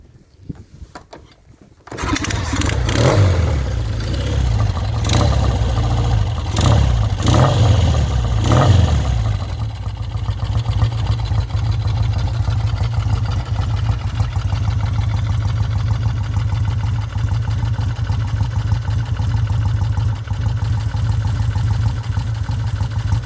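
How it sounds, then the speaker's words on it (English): A 1967 Triumph Bonneville T120 motorcycle with a single carburettor and a Morgo 750 conversion starts from cold. A few sharp blips of the throttle follow before it settles into a steady, loud, close idle that runs on alone. "So let's put the fuel on and we'll fire it up."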